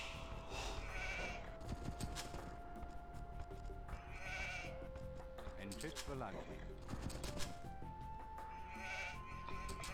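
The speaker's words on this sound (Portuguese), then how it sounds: "Tem lá do lado mais 2 ovelhas." Sheep bleat repeatedly in Age of Empires 2 HD amid game music and background game effects, with several short calls spread across the stretch.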